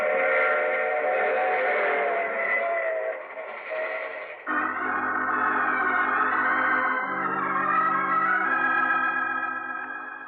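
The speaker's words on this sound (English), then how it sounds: "I take this same train every week at this same time." Train sound effect from a vintage radio drama: a steady rumbling train with drawn-out, harmonic whistle tones that shift pitch midway, loud and continuous throughout with no talking.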